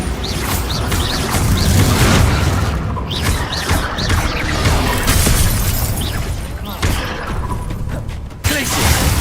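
Bombarda explosion spell from the video game Hogwarts Legacy: a cluster of loud crashing, shattering blasts with sharp impacts and rumbling debris, mixed with other spell effects and combat noise.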